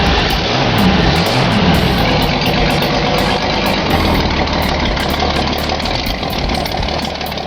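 A '66 Ford Mustang with a 200ci inline-six runs at a steady, loud idle close by, its low rumble continuous and slightly uneven with some knocking texture throughout.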